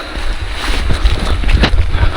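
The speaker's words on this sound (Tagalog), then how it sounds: "ito umuulan siya" Steady outdoor rain hissing without letup, mixed with gusty wind noise and a few louder spatters, no voices.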